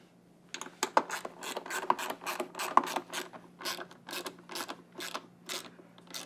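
Someone snugs up a bolt with an Allen key while installing a Taxi Garage 900W 48V upgrade kit on a Razor Crazy Cart. There is a series of quiet, close, rhythmic ratcheting clicks, about a dozen in quick succession.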